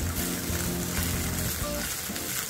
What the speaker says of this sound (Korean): 식용유 한 큰술 둘러주시고요. 자, 향이 나는 재료, 표고 먼저 볶아주세요.